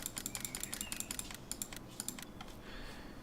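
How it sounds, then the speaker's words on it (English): Rapid mouse and keyboard buttons are clicked in quick, irregular bursts close to the microphone, a sharp tapping patter that slows slightly toward the end. "you're getting a noise of spamming mouse button here"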